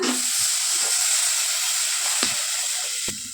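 Tamarind water poured into hot masala in a pan sets off a loud, steady sizzle and hiss, with a few brief clinks of a utensil stirring.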